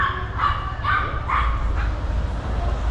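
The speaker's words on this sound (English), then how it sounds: "Let's see what the dogs are all about." Small dogs on Rua de João de Almeida, a street in Macau, bark in a quick series of yips, several short bursts at moderate distance over steady outdoor street hum, with no talking.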